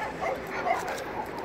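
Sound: pit bull dog barking and whimpering

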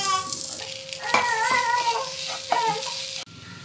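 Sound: stirring chicken filling with pepper in pan

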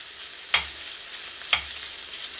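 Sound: beef meatballs frying in sunflower oil

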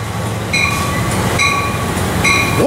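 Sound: freight train passing

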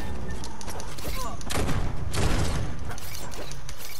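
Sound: shotgun fire in the video game Biomutant

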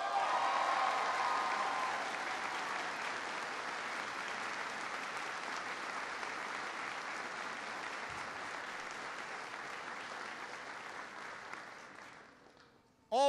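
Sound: applause for Ambassador Kim

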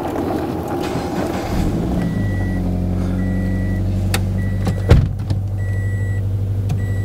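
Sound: Subaru BRZ engine rumble at startup

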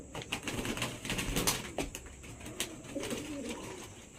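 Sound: pigeon cooing

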